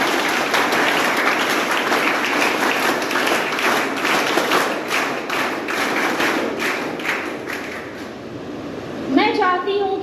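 A crowd at an NCC cadet certificate ceremony in Bhojpur breaks into sustained, loud clapping that fades out, followed by a brief voice at the end.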